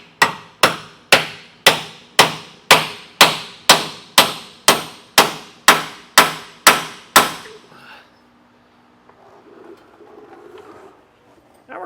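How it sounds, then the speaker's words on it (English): A hammer taps a metal socket against a trailer shackle fitting, about fifteen sharp, evenly spaced metallic strikes close up, followed by a few seconds of quiet handling noise. "I'm using an 8 or a 10 millimeter socket for a 1/2 inch drive, and we're just going to tap this."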